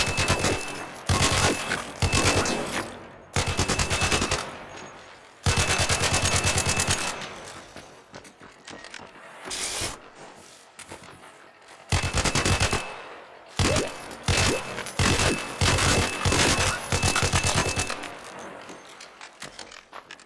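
Automatic weapon fire in Arc Raiders comes in several loud, rapid bursts of a few seconds each, separated by short pauses, close and dominant throughout.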